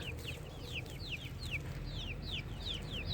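Chickens cluck and a rooster calls in a chicks' first outing outdoors, a steady run of short repeated calls close by over a constant low rumble of wind.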